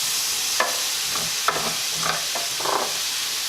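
Vegetables sautéing in a pan, with a continuous bright sizzle broken by several scraping stirs of a utensil, close and steady, with no voices.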